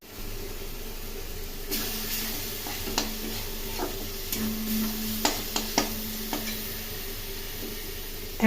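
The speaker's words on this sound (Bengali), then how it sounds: "নেড়ে নেড়ে ভেজে দিতে হবে" Frying and stirring in a pan for a Bengali-style chicken curry, with a soft sizzle beneath repeated sharp clinks and scrapes of a spoon against the metal, growing more frequent toward the end.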